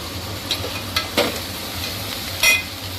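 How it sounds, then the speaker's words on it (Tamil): Prawns frying in a pan during home cooking: a soft, continuous sizzle broken by a few short stirring scrapes, close by, with no voices. "இது வந்து இறால் ஃப்ரை ஆகிட்டுருக்கு ஃப்ரெண்ட்ஸ்"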